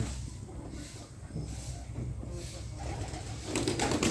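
Sirazi, Philbeck and homing pigeons coo softly in low, repeated murmurs against a steady hiss of background noise, with no one speaking.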